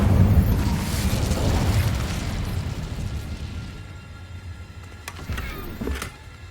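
An Incendio fire spell erupts in Hogwarts Legacy: a broad, roaring burst of flame with a heavy low rumble that slowly fades. A couple of sharp crackling pops come near the end.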